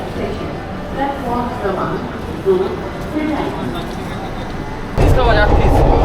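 An older-coach passenger train from Kolkata to New Jalpaiguri rumbles along in a steady low roar, heard from inside the carriage under people talking, growing louder near the end.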